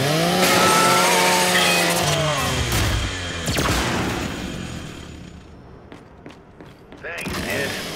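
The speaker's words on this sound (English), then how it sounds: "Just use your Lancer's chainsaw." Lancer rifle's chainsaw bayonet revving and cutting in Gears 5, a loud buzzing motor whine that grinds and fades over several seconds, then gives way to scattered impacts and a brief rising engine burst.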